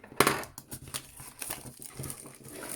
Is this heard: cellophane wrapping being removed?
yes